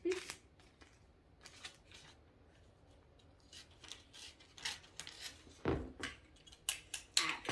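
Scissors snip and slide through Christmas wrapping paper trim, bursts of crisp cutting and rustling paper that come quicker toward the end, close and quiet amid light handling sounds.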